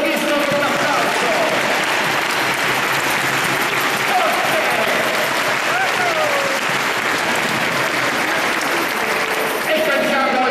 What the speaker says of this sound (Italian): Secondo anno di catechismo, un applauso.